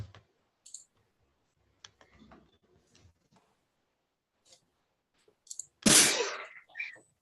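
After quiet clicking and faint rustles, a single loud sneeze bursts out close by, followed by a short sniff.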